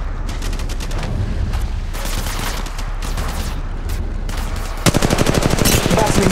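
A close, heavy firefight in Apex Legends Mobile brings rapid machine-gun bursts and booming shots that grow denser and louder toward the end, with faint game voice lines in the mix.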